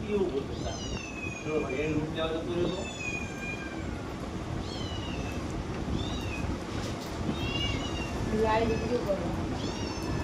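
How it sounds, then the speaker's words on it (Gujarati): Several high, thin kitten meows repeat through the recording over a steady noisy background, with some voices talking nearby. "બિલાડી બચ્ચું"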